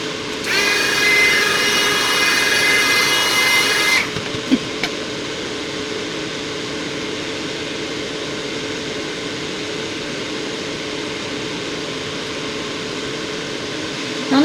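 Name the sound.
Resiners Purair air purifier running, strong air movement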